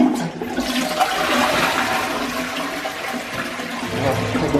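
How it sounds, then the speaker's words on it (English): An old toilet in an abandoned seaside hotel on the Isle of Wight flushes loudly and close, a steady rushing gush of water that holds for several seconds. "So the toilet's still flush there."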